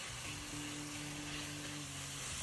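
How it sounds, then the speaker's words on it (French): Onions cook gently with water in a pan, giving a soft, steady, low-level sizzle and bubbling with no talk. "on laisse cuire les oignons tout doucement"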